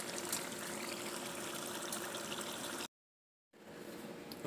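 Grease and juices from cooked ground meat with taco seasoning pour steadily out of a pan in a continuous close trickle, then stop briefly before the flow resumes.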